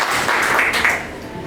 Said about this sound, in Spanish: Un aplauso para él, que siempre es bienvenido